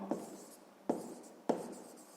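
Pen or marker writing an equation for a sixth-grade maths exercise, heard as three short scraping strokes spaced apart, quiet and close with no voices.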